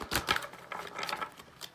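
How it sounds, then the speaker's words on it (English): Tarot cards are shuffled in a few quick, close riffling bursts with light papery flicks, soft and brief in a quiet room. "We're going to go ahead and shuffle"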